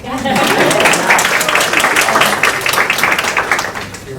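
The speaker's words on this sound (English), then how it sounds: "And we can clap for that" Audience applause at a school district meeting about offering Assyrian, a close, loud clatter of many hands that fades toward the end, with voices talking over it.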